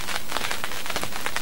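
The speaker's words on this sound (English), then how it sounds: "It's starting to rain." Rain starts to fall outdoors on a cold spring day during a turkey hunt, a dense hiss of close patter with scattered louder drop hits, continuous and without talk.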